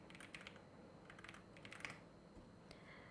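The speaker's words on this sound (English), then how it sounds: "I'm just going to type in my passcode." Fingers tap out a passcode on a keyboard in quick, uneven clusters of light, close clicks, fairly quiet against a faint background hiss.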